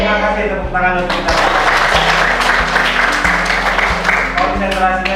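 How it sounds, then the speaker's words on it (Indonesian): A classroom group of students claps together in steady applause during an Indonesian lesson, dense and loud, with low rhythmic beats from music or stomping running underneath. "Terima kasih, tepuk tangan untuk kita."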